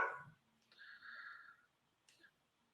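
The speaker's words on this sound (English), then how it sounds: "The dogs are freaking out." Agitated house dogs react to commotion outside, giving a short bark followed by a drawn-out whine or howl and a brief final yelp, heard at moderate distance indoors.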